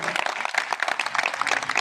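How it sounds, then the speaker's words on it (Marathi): A crowd at a public ceremony in Amravati applauds councillor Pranit Soni, with dense, brisk clapping from many hands, fairly close and sustained for the whole moment. "सर्वांना विनंती करतो की त्याचा जोरदार टाळ्या वाजवून त्याचं कौतुक करावं"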